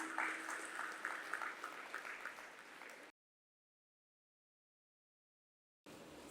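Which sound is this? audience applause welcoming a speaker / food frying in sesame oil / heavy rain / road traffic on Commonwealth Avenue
audience applause welcoming a speaker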